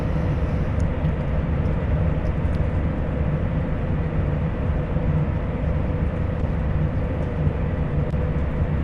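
A simulated TGV high-speed train in Train Sim World 2 runs at full throttle, a loud, steady roaring rumble of traction and rolling noise that holds constant throughout.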